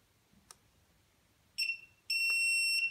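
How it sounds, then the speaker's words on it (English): A couple of faint clicks, then two sharp high-pitched electronic beeps from a Hubsan drone remote controller binding, the second held longer, ring out in quiet surroundings. "Wait for the beeps and it should bind."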